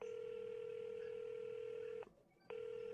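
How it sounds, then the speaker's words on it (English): Telephone dialing in the Hotel: Collectors Edition hidden-object game: a steady, faint electronic dial tone cuts off briefly for about half a second, then resumes, no talk. "Oh, she's making a phone call."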